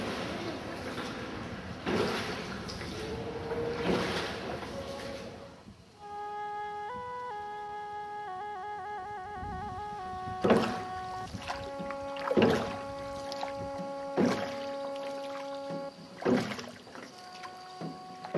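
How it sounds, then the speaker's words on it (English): Farmers row small boats along a stream through rocky valleys of rice fields in Vietnam; intermittent oar splashes and water strokes are heard alongside steady tonal music. "every day, the farmers reach their fields along the streams in small rowing boats"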